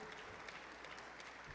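An audience at a Wake Forest basketball clubhouse event applauds, a steady wash of many hands clapping at moderate level throughout.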